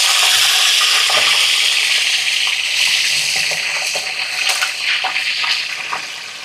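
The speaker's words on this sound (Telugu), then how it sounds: "అప్పుడు సాల్ట్ వాటర్ వేసుకోవాలి కొంచెం." Salt water poured into hot oil where potato chips are frying gives a loud, steady sizzling hiss with bubbling crackles, close and continuous throughout, easing slightly toward the end.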